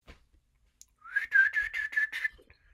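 During a workshop play reading set in a bar, a person gives one loud, sustained whistle that slides up into a held, slightly pulsing pitch for just over a second, clear against near silence.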